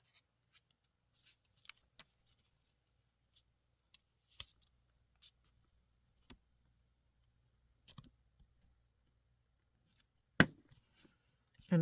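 Scissors trimming paper edges on a magazine-page junk journal masterboard: sparse, faint, close snips and clicks scattered over a quiet room, with a louder cluster of cuts near the end.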